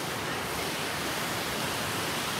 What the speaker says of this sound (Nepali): तर खोलाको आवाज चाहिँ रहेछ यता त्यही माथिको झरनाबाट आएर बनेको होला